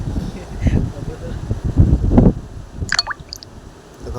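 Water forced out of a compressor air gun in wet, gurgling bursts, close and fairly loud, ending in a brief sharper hiss of air.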